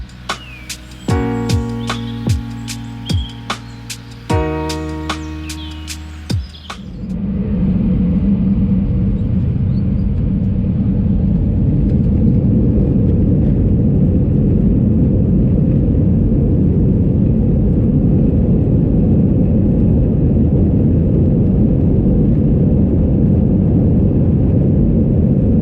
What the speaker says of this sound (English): we are going to listen to the takeoff with the original sound